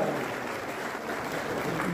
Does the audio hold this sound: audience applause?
yes